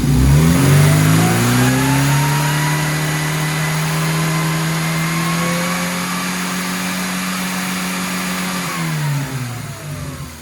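A car engine is held at full RPM during an ignition timing check, giving a loud, steady high-revving drone that sags slightly before dropping away near the end. No one speaks.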